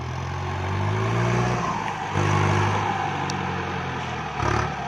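A Kubota MU5702 tractor engine revs near a dirt work site, a loud, steady low drone that swells and eases in a few waves, with no talking.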